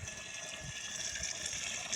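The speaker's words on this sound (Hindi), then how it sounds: "हम ऊपर से इसको पानी हम डाल देते हैं" Water steadily pouring into a half-filled spray tank for mixing a cabbage crop treatment, a continuous hissing splash heard up close with no other sounds.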